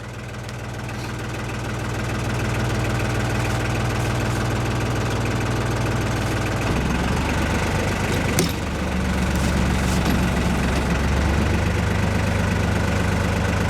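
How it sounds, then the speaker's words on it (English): A tractor engine runs steadily under heavy load while lifting a large oak log in the woods. It drones loud and close throughout, and its tone shifts and strains partway through as the weight comes on. "That's a lot of log for this tractor."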